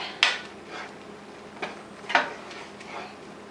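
A utensil scrapes and clinks against a pot while stirring stuffed mussel filling with mayonnaise, a few sharp metallic taps spaced irregularly over a quiet, faint background.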